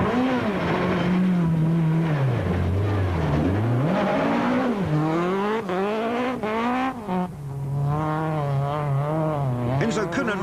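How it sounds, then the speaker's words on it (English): A Sasol dual-fuel Volkswagen Golf rally car races on a mountain trail, its engine loud and close, revving up and down through gear changes with brief tyre noise while a commentator talks over it. "The Sasol dual-fuel Volkswagen Golf of Habig and Judd are battling with tyres and handling."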